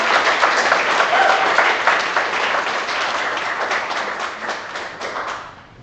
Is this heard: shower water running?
no